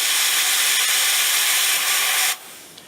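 The steam wand of an RS1 espresso machine hisses loudly and steadily at high steam power for over two seconds, then cuts off abruptly, leaving a quiet tail.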